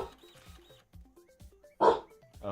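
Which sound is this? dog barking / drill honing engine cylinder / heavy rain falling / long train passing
dog barking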